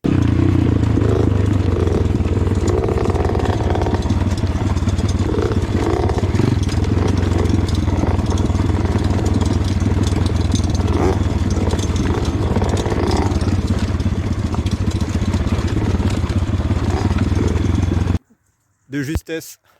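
50cc minicross dirt bikes ride along a road at dusk on the way back from an enduro outing, a loud steady engine drone running continuously and close by before cutting out near the end.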